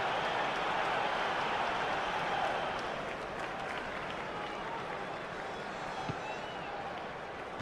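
A stadium crowd cheers in the football game FIFA Online 3 during a pre-World Cup Spain match, a steady, dense roar of applause and voices that swells early and holds throughout.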